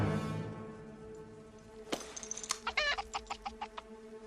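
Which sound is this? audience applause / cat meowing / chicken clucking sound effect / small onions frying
chicken clucking sound effect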